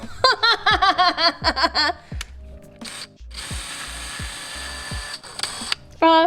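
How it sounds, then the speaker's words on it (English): A small drill bores a hole in a stained glass resin clock, first with rapid whirring bursts, then a pause and a longer steady grinding run, close and fairly loud, with clicks between. "So now that it's drilled"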